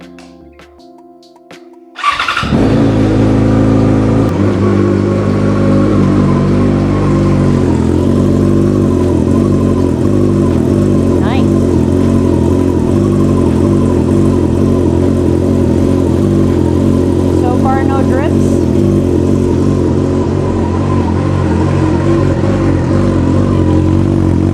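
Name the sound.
Yamaha FZ6R motorcycle engine starting and revving after radiator upgrade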